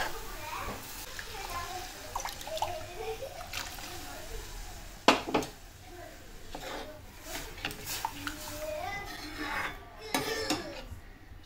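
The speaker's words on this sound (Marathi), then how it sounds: "त्यात आपल्याला जी आपण ब्रोकलीची पेस्ट केली आहे ना ती घालायची. हलवत राहायचं आहे त्याला व्यवस्थित." A spoon scrapes and clatters against a cooking pot as broccoli paste for broccoli soup is stirred, with soft wet splashes and metallic taps under steady talking throughout.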